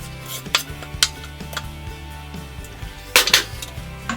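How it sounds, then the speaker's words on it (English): A spoon stirs chili of beef, onion and seasoning in an Instant Pot, giving several sharp scraping clinks against the metal insert at irregular intervals over a low steady hum. "Give that a quick stir."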